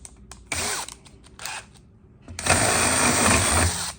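A power drill whirs in a few short bursts while drilling holes for a golf cart seat cover, then runs continuously for over a second, close and fairly loud, with no talking.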